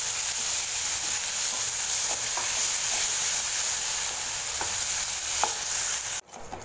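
Ginger garlic paste fries with onions in a pan, giving a steady close sizzle with scattered light stirring taps, until the sound cuts off abruptly near the end.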